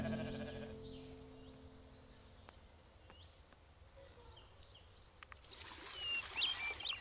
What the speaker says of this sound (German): Ich habe halt nur zwei Ziegen.